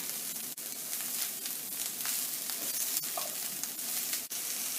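Broccoli and garlic sauté in a pan with lemon zest, a bright continuous sizzle with a few knocks and scrapes of stirring over a few seconds.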